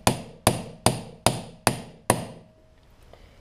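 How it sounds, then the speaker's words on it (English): Six sharp, evenly spaced metallic blows from a hand impact driver being struck with a hammer to loosen Phillips screws on a Yamaha Blaster engine case, followed by a short quiet tail. "We're using our hand impact again."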